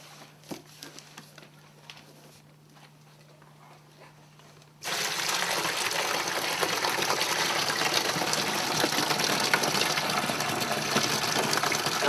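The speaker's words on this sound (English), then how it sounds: "add the juice to the bentonite solution" Grape juice gushing from a box into a bentonite solution for winemaking: after a quiet stretch with a low hum and small handling clicks, a loud, steady rush of pouring liquid starts abruptly and carries on without a break.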